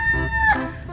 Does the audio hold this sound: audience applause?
no